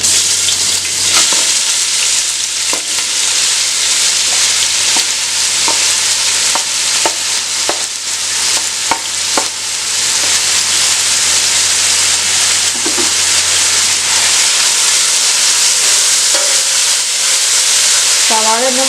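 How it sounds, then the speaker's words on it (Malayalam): Sliced onions frying in oil in a kadai for Malabar fish biriyani, a loud, steady sizzle with stirring scrapes and taps throughout. "അതിലേക്ക് നമുക്ക് നമ്മൾ നേരത്തെ റെഡിയാക്കി വെച്ച സവാള ഇട്ട് കൊടുക്കാം."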